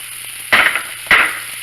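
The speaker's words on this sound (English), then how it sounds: "We'll add the onions. Red onions because I want the color." Two sharp bursts of sizzling as red onions hit a hot pan with pork, each loud hiss flaring up and then easing off, over a low steady kitchen hum.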